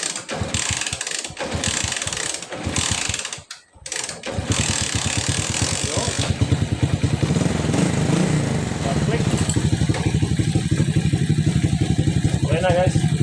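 A water pump engine starts up on test, settling into a loud, steady running chug with mechanical rattle that continues to the end, with people talking briefly near the start.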